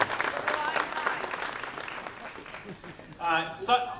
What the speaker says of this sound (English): Let's have a round of applause for Stanley Starfire.